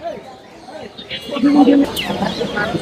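A rooster clucks a few times close by while people talk over it at a poultry market.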